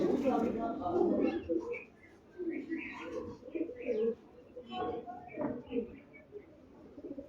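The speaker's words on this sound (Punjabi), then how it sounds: "ਖੱਟੀਆਂ ਅੱਖਾਂ ਦਾ ਲਾਲ ਚੀਨਾ ਇਹ ਵੀ ਗਾਮੀ ਵਾਲੇ ਕਬੂਤਰਾਂ ਚੋਂ" Pigeons coo softly in low, rolling murmurs, mixed with a few chirps, while someone talks over them throughout.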